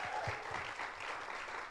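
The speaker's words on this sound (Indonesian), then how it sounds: "teriakan sorak-sorak yang meriah" A standing church congregation at a worship service applauds, a dense continuous patter of many hands at moderate distance with faint cheering mixed in.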